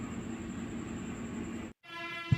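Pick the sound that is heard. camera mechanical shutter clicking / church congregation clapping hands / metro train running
metro train running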